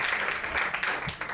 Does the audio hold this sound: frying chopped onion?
no